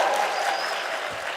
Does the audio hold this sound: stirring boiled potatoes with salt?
no